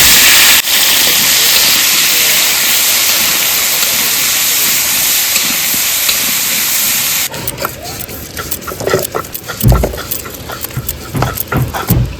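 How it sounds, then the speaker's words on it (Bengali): Potatoes frying in hot oil give a loud, continuous sizzle that fills the first seven seconds, then give way to quieter clinks and kitchen handling noises. "এইবার আলু ভেজে নেব, তেল দিয়ে দিচ্ছি"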